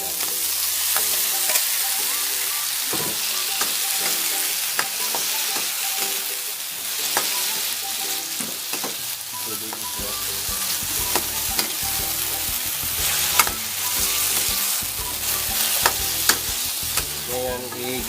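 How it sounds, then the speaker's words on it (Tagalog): Chayote being sautéed for sardine curry: a steady, close sizzle in a pan, with occasional scraping and stirring clicks throughout. "Ngayon igigisa na natin mga kadadis ng ilang minuto."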